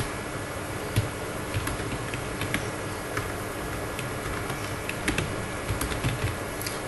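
Someone types a street search into Google Maps on a laptop keyboard, producing scattered light key taps at close range over steady background hiss.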